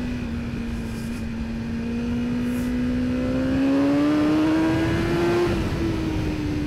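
A BMW S1000R motorcycle accelerating on a wet road, its engine whine climbing steadily in pitch over a constant rush of wind, loud and close, with no talk.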